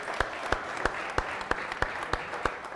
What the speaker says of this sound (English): how about we give Brianna Bizzaro a round of applause.